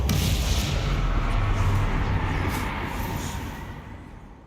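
A Crucio spell cast in the Hogwarts Legacy video game lets out a loud, dense, booming roar like a blast, holding steady and then slowly fading over a few seconds.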